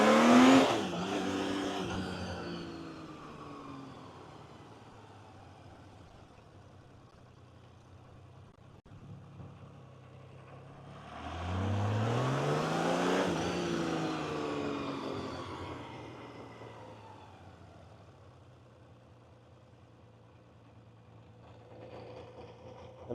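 Honda CBX1000Z six-cylinder superbike engine revved in sharp bursts, a loud blip at the start and a long swelling rev midway, settling back to a quiet idle between.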